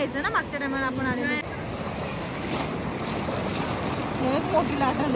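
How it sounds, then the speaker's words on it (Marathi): Big sea waves breaking on the shore at Ratnagiri make a steady, close broadband roar mixed with wind buffeting, while people talk over the surf. "हेच मोठी लाट आली"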